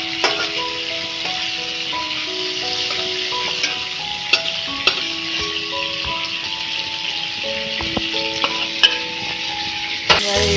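Prawns fry in hot oil for a jackfruit and prawn curry, giving a steady, close sizzle and crackle with scattered pops and a few sharp clinks of a utensil against the pan.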